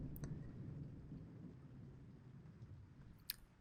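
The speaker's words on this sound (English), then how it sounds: "As the thunder and rain grows in intensity" Thunder and rain in the horror video game Corpse Party: a soft, continuous low rumble with a faint rain hiss, quiet and unbroken, and a couple of brief crackles.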